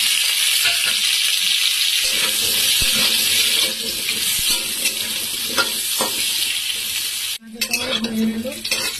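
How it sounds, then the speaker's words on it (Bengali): Potatoes fry in hot oil in a kadai, a steady loud sizzle with stirring scrapes throughout and a brief break near the end before the frying resumes. "আলুটা ভেজে নেব।"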